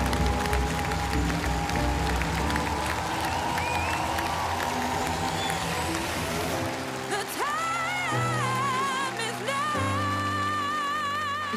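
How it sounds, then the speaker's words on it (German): The studio audience at The Voice of Germany applauds and cheers in a broad crowd roar, mixed under loud music. "Du bekommst hier Applaus von unserem Publikum"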